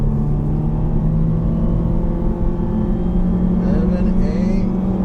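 An all-wheel-drive sports car launching from around 600 RPM in a 0–60 mph run: a loud, steady engine drone close by with rising pitch toward the end, while someone talks over it.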